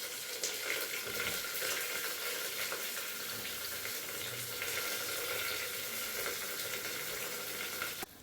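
Onions fry in a pan for dal khichdi, giving a steady, broad hiss of sizzling oil that carries evenly at moderate volume and then cuts off abruptly.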